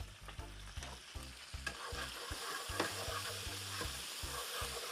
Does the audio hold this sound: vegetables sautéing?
yes